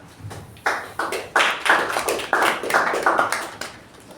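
Applause at a Toastmasters meeting: a small group clapping, starting with a few scattered claps and then building into a steady, moderately loud run of overlapping hand claps.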